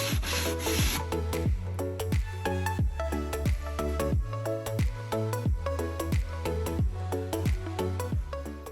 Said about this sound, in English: And using a sanding block, I smoothed out the edges.